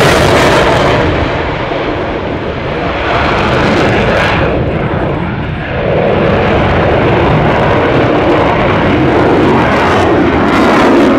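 A Dassault Rafale fighter jet roars through its takeoff at an air show, a loud, broad, continuous jet-engine blast that swells and shifts in pitch as it passes, heard alone and fairly close.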